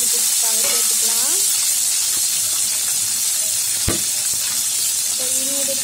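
Small shallots sautéing in a pan with about two spoons of oil for an anchovy fish curry, a steady loud sizzle and hiss filling the whole stretch, with faint stirring knocks and a brief voice.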